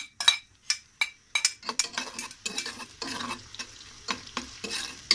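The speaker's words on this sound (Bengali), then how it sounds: "গোল্ডেন ব্রাউন করে ভেজে নেব পেঁয়াজগুলা, একটু সময় লাগবে।" Chopped onions and green chilies frying in hot oil, a close, loud sizzle broken by repeated scrapes and clinks of a metal spoon stirring against the pan.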